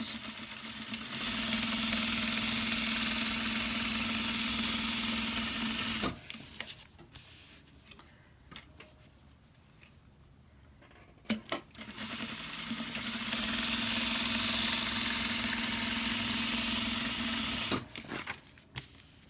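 A sewing machine stitches quilted vinyl for a purse, running in two long steady buzzing stretches of several seconds each, separated by a quieter gap with clicks and handling noises.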